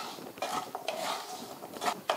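A spoon stirs gooseberry pickle with its tempering in a pan, giving a few scraping, clinking strokes against the metal at close range, with no talk.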